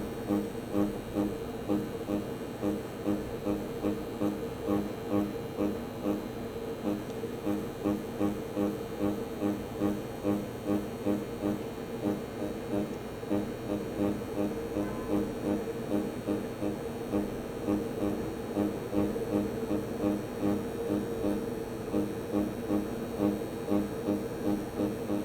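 A third-generation auto scalp tattoo machine runs at speed setting 8, producing a steady, close, rapidly pulsing buzz that continues without pause for the whole stretch, with no talking.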